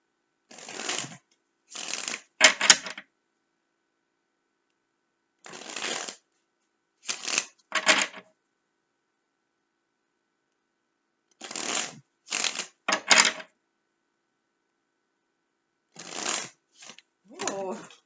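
A tarot card deck is shuffled for a reading in short, crisp riffling bursts, about a dozen quick ruffles grouped in clusters with silent pauses between, close and clear.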